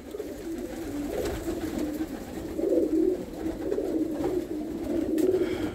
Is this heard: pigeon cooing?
yes